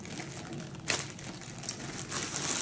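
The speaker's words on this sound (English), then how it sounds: "The rest of the kit contents are going to be here in the branded dust cover or plastic bag." Plastic bag from a diamond art kit crinkling as it is handled, close and quiet rustling with a sharper crackle near the middle and more rustling toward the end.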